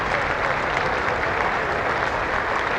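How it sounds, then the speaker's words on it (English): A county championship cricket crowd, Middlesex versus Sussex, applauds warmly for Toby Roland Jones; steady dense clapping fills the whole stretch with no break. "the applause is for Toby Roland Jones"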